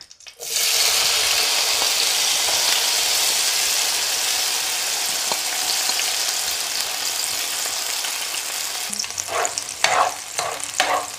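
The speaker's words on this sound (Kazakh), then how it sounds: "Жақсылап отырып қызанақтарды қуырамыз." Tomatoes sizzle loudly in hot oil in a pan, cooking for a tomato fried-egg dish, a steady dense crackle running throughout with a few stirring scrapes near the end.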